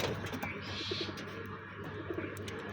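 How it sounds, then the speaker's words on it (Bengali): A Mayna pigeon and its chicks cooing softly nearby, with low, repeated coos over a quiet background. "আমার ময়না কবুতর আর আমার ময়না কবুতরের বাচ্চা দুইটা"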